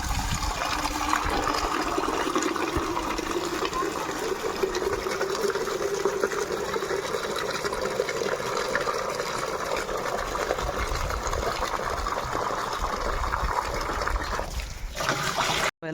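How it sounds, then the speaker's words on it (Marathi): Water pours steadily into a drum for storage at a home, a continuous rushing, trickling fill that stays loud and close with no break until it cuts off at the end. "हे ड्रम त्या लोकांना भरून ठेवावं लागतं इथं पाणी"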